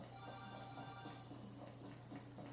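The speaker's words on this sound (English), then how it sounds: "there's a phone going off" Phone ringing in GTA Online: a steady electronic ringtone with a sustained tonal buzz and repeating chirps, faint and continuous over low game background, no talking.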